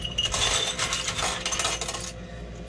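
Coins cascade and clatter in a coin pusher arcade machine, a bright continuous jingle of metal on metal with small bursts and a brief lull near the end, close and loud with no voices.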